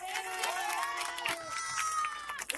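A crowd at a political gathering in Govandi, Mumbai, cheering and clapping for an arriving guest, with loud shouts and sustained voices over the clapping.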